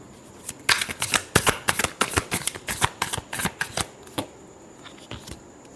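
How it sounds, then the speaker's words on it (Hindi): A deck of tarot cards gets a final shuffle, with a rapid run of sharp, close card flicks lasting a few seconds before it trails off into quiet. "तीन चार कार्ड्स गिरे हैं, लास्ट शफल।"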